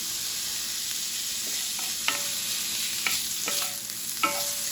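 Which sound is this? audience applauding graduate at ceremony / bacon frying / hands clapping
bacon frying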